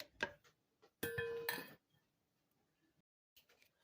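A serving spoon clinks against dishes in a kitchen, a few short bright metallic rattles, the loudest cluster lasting under a second, then quiet with faint clatter at the end.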